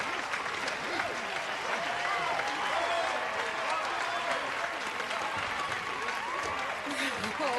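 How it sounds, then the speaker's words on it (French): Sustained audience applause fills the room, dense and steady throughout, with cheering voices and crowd noise mixed into the clapping. "Réservez vos applaudissements."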